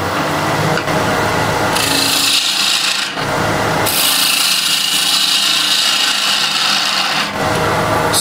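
Wood lathe turning a compromised piece of wood with a gouge, a loud continuous rasping scrape that swells and fades in long passes over the steady whir of the machine.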